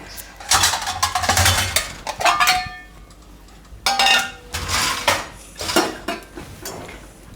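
Dishes clang and clatter in a home kitchen as a plate is pulled out, with several bursts of ringing metal-and-ceramic knocks separated by short pauses.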